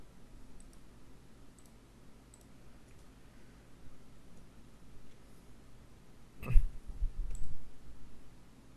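Computer mouse clicks come as a few faint, sparse ticks over low background hum, then a louder cluster of clicks and handling noise near the end.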